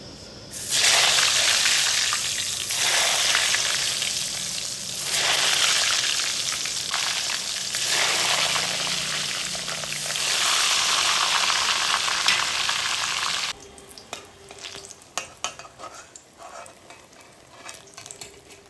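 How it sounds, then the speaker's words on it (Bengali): Eggplant slices frying in hot oil, a loud continuous close sizzle with surges as pieces are turned, dropping abruptly near the end to quieter clattering and faint crackles. "বেগুন ভাজাও হয়ে গেছে"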